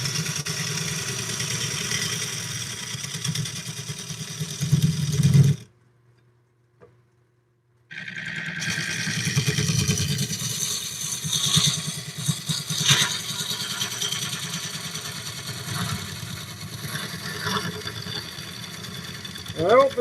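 A wood lathe spins a bowl blank while a gouge cuts, giving a steady low hum with light scraping and clatter, broken by a short pause partway through, as a person talks over it.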